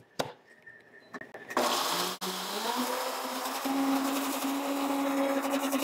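A household blender strains to grind paçoca, starting with a few clicks and knocks before the motor kicks in with a loud, steady, close whine and rough grinding that holds to the end.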